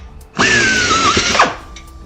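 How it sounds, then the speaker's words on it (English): A power drill whirs through airplane turtle deck parts from the opposite side, a single burst of about a second that rises, holds and winds down, close and loud. "We're gonna drill from the opposite side,"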